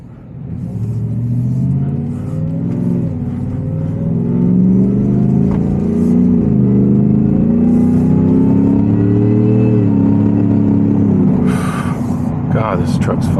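A 2025 Shelby F-150 Super Snake, a 785-horsepower supercharged truck, pulls away on a road with a deep rising engine rumble heard from inside the cab, while someone talks over it.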